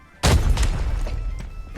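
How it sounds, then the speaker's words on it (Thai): Grenade blast in the shooter game Arena Breakout: one sudden heavy boom followed by a sustained rumbling roar that fades slowly, heard alone and fairly loud. "เดี๋ยวเอาระเบิดเล่นระเบิดก่อนนะครับเล่นระเบิดก่อน ปาไปก่อน"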